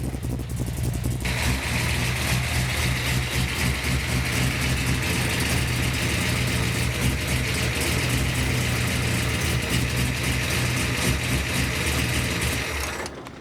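A 557-horsepower Chevrolet Nova's big engine idles loud and close, a thick, lumpy, steady rumble that holds unbroken for the whole stretch before cutting off at the very end.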